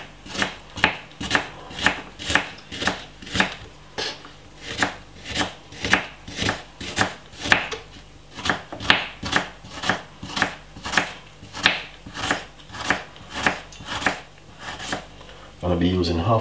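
Half a red onion is chopped with a knife on a board in quick, steady strokes, about two per second, close and crisp, with a brief rustle at the end.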